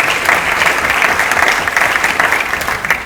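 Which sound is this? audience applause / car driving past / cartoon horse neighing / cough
audience applause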